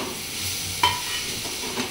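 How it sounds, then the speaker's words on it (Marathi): Grated coconut, jaggery and dry fruits dry-roasting in a pan for ukadiche modak filling give a quiet, soft sizzle with one brief scrape of stirring partway through. "आता हे सगळं चांगलं भाजून घेते"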